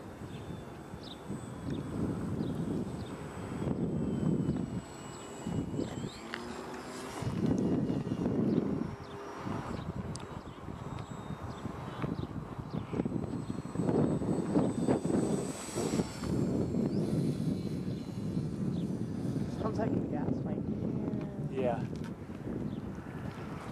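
Ares P-51D Mustang 350 RC model plane flying outdoors, its small electric motor buzzing faintly and shifting as the throttle eases off, with wind rumble on the microphone and people talking throughout.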